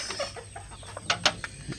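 A chicken clucks in short, irregular bursts nearby, with a few sharper squawks among the soft calls.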